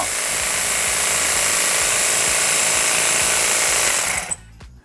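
A Kyocera garden multi-tool set up as a small lawn mower runs with a loud, steady buzzing whir close by, then cuts off abruptly near the end.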